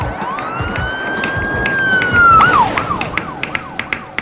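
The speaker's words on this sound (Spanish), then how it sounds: "las ambulancias pasan" An emergency vehicle siren sweeps past on a city street, rising and falling as it nears and fades, heard alone over steady traffic rumble with a few sharp knocks toward the end.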